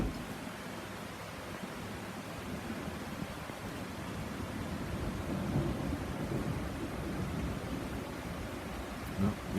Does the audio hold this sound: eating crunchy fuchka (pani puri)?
no